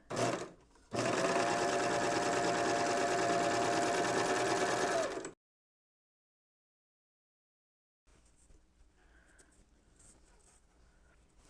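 A serger runs continuously for about four seconds stitching a quarter-inch seam on an apron with a shorter stitch length, a loud, even mechanical whir after a brief start, then silence and faint room noise.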